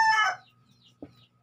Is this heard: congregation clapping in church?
no